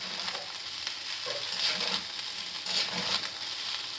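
Boiled rice frying with garlic in a pan, a close steady sizzle broken by rhythmic scraping stirs, no talking.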